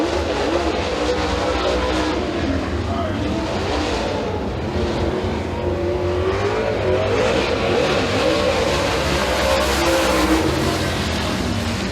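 Super late model race car circling Eriez Speedway on a qualifying lap, a loud continuous engine roar that rises and falls steadily as the car works around the oval.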